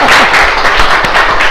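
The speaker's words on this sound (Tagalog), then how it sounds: "So pumalakpak sila kasi sabi ko." Students in a theoretical driving course class clap together after a speaker's prompt, a short, steady burst of applause close by.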